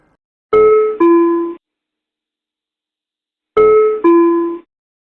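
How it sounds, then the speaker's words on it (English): Two identical two-tone chimes in an ATR aircraft cockpit, a cabin call from crew or mechanic, a high note dropping to a lower one, sound clearly with a long silent gap between them. "The doorbell sounds when the cabin crew or the mechanic is calling on the interphone."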